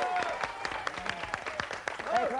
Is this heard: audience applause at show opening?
yes